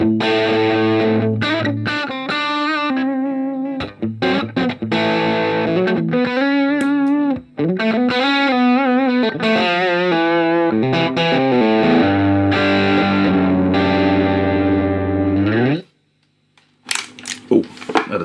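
Distorted electric guitar through effects pedals, played with a shiny chrome finish and then a glitter orange one for tone comparison: continuous sustained chords and riffs, loud and close, ending in a short pause and a few quick plucks.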